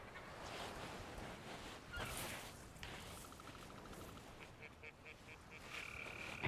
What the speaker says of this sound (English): I hear these fuck chickens.